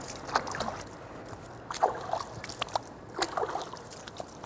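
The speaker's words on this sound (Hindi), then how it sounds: "कोहनियों तक ये पूरे हाथ धुल जाना चाहिए अच्छी तरह" Water splashing as hands and forearms up to the elbows are washed during ablution, soft intermittent sloshes and trickles at close range, several small splashes spaced over a few seconds with no talking.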